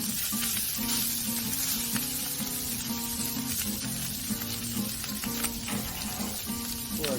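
Buns for beef sandwiches sizzle steadily on a Pit Boss grill, a continuous close crackle and hiss with no talking.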